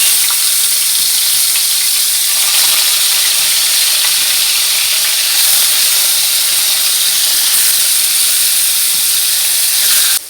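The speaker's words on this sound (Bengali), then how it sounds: "এখন মাছটা ভেজে নেব," Fish rubbed with salt and turmeric frying in hot oil in a home kitchen, a loud continuous sizzle and crackle close up for the whole stretch.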